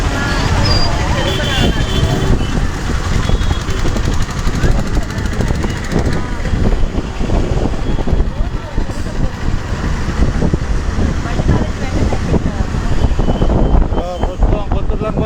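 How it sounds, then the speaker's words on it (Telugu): Inside a moving Kothuru Lanka bus headed for Jampana, a loud, steady engine rumble and road noise fill the whole stretch, with voices and passenger chatter mixed into the din. "నేను కొత్తూరులంక బస్సు జంపన వరకు ప్రయాణం చేస్తున్నానని చెప్పాలి"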